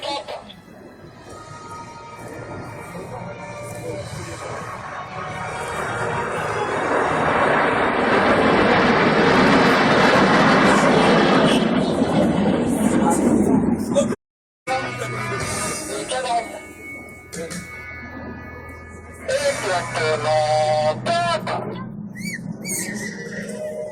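Aerobatic planes pass in close canard formation at the 2013 La Ferté-Alais air show, their engine roar swelling to a loud peak and fading away, while an announcer's amplified voice speaks over and around the pass.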